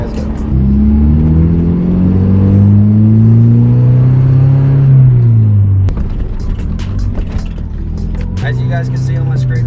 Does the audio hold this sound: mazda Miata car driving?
yes